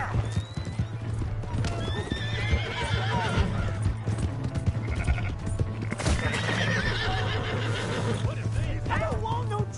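Horse whinnies and steady clip-clop hooves in a PS4 video game, loud and continuous throughout, mixed with game background sounds and voices talking over it.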